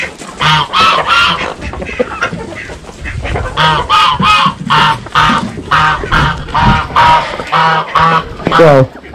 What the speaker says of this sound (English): you hear them loud geese